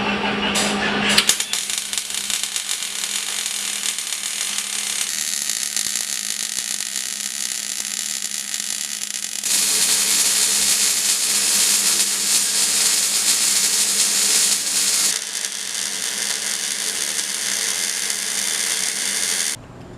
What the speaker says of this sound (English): so I'm just going to weld them in real quick